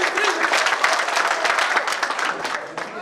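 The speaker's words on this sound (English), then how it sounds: "Okay, three clap from three." A group at a youth leadership training workshop claps together, a dense burst of many hands striking with sharp, rapid transients, close and loud throughout.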